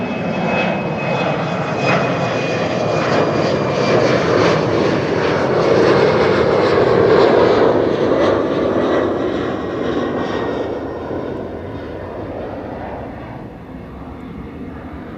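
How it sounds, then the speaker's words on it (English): An Embraer 190 jet airliner climbing out after takeoff from Schiphol, its engines a steady, strong roar that swells slightly midway, then slowly thins and recedes into the distance, heard without talk. "Oh, it's an Embraer 190 to Düsseldorf"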